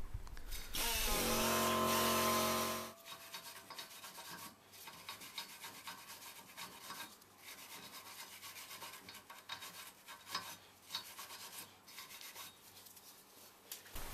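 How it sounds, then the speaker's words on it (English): On the hub face of a 2007-onward Ford Mondeo Mk4 rear brake, a loud tonal power tool burst of about three seconds gives way to steady, fainter scraping and rubbing that carries on to the end. "You can then clean up the hub face ready for the new disc."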